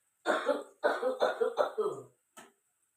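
A woman with a viral infection coughs nearby in a harsh run of about five rapid coughs, then gives one last short cough after a pause.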